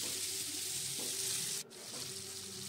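Cauliflower, broccoli and mixed vegetables stir-frying in a pan for vegetable chowmein, a steady close sizzle running throughout with a brief dip partway.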